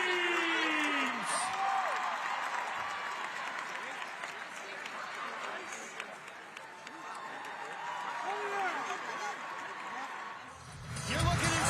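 An arena crowd at a college basketball first-night event cheers and applauds the UConn dance and cheer teams, a broad continuous roar with some whoops, music and an announcer's voice mixed in.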